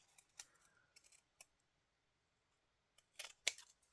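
Scissors trim paper edges in a quiet room, giving several soft, crisp snips spread irregularly across the moment, with a tighter cluster of sharper cuts near the end.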